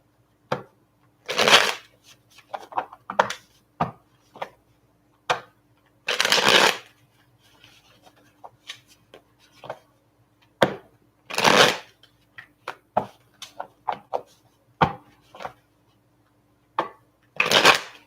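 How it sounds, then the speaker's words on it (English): A deck of tarot cards being shuffled close up, with repeated bursts of riffling and softer slaps and taps between them over a quiet room hum. "I don't know why I'm having trouble shuffling tonight."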